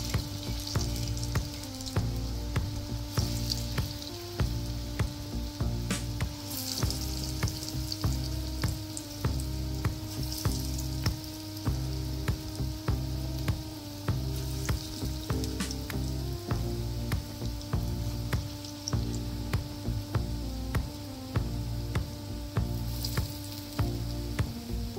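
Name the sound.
moong dal bhaji frying in oil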